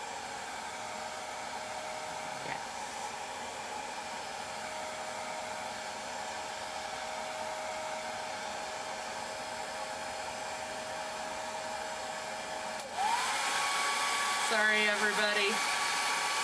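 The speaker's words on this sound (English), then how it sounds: "Hair dryer. Revlon." A Revlon hair dryer drones steadily at close range, then kicks up to a louder, higher setting near the end; a voice briefly speaks.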